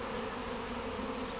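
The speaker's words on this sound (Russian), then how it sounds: "Ну, видите, сколько пчел." A huge swarm of Buckfast honey bees hums in a steady, dense drone at close range, unbroken and without voices.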